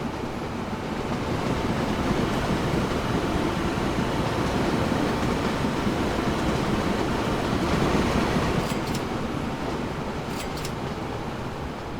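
Trains rumble steadily through a Train Fever rail network, a continuous broad roar of rolling wagons and rail noise that holds even for the whole stretch, with brief high squeals near the end.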